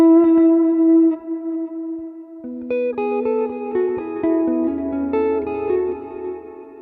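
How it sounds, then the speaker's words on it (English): An electric guitar runs through a new distortion effect in the DST block of a Valeton multi-effects unit after a v1.5.0 firmware update. A long sustained note gives way to a series of loud, driven chords, with no talk. "they added, I think, 1, 2, 3, 4 distortion effects to the DST block"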